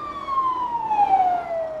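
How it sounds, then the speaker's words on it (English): Emergency vehicle siren on a street in Gaza, a loud wailing tone that slides slowly downward in pitch as it passes close by, with faint road noise underneath. "There was sirens speeding."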